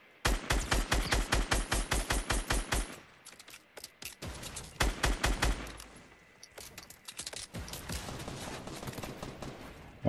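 Rapid automatic gunfire rattles in a Fortnite match: a long, evenly spaced burst of loud shots, then scattered shots and another dense volley, punchy and close with no voices over it.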